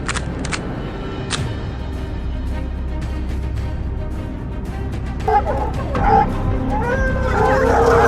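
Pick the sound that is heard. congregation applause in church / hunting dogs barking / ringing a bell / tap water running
hunting dogs barking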